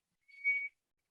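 A human voice imitates a beluga whale call, giving one short, high, tonal whistle with slight modulation that rises and fades within under half a second in a quiet room.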